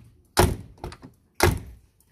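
Two solid thunks from the doors of a 1999 Mitsubishi Kuda GLS diesel being shut, close and loud, with a softer knock between them and quiet gaps around each.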